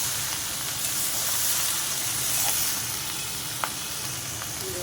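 Mixed winter vegetables sizzling in a pan with fish head as water is added, a steady bright hiss running throughout with a few faint clicks, moderately loud and close, no voices.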